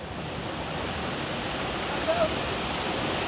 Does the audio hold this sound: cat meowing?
no